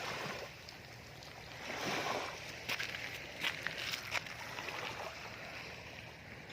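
On a shore at Ao Thong Tanot in Chumphon, water from a creek blocked by wave-piled sand and shells trickles across the beach into the sea. It makes a continuous close hiss and burble with a few sharp splashes midway, and no one speaks.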